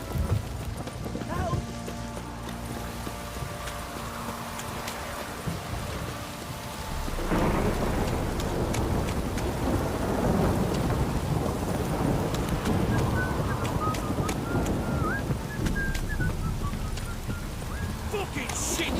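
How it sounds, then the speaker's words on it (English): Heavy rain pours down with rumbling thunder in The Witcher 3, a steady loud downpour that swells midway, with horse hooves clopping and a voice talking over the storm. "Let me live this downpour's a bastard it is."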